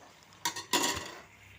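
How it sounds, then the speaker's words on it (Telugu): Tomatoes with coriander seeds tipped into a hot pan, giving a brief close burst of sizzling and utensil clatter that fades back toward quiet. "వేగిన తర్వాత పక్కన పెట్టేసి ఇప్పుడు టమాటాలు వేపుకుంటున్నా"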